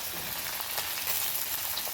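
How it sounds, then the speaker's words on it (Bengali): Mola fish from the Ganges frying in hot oil, giving a steady close sizzle with soft crackles and faint stirring throughout, no voices. "এখন মোরলা মাছটা ভাজা হচ্ছে, গঙ্গার মোরলা মাছ।"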